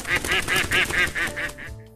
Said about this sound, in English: a yellow duck,